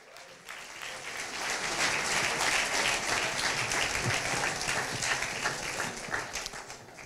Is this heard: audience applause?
yes